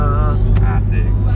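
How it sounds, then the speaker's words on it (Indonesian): Low, steady engine and road rumble inside a moving car, with people talking over it throughout. "sekarang di mobil ini saya nyupiri mereka"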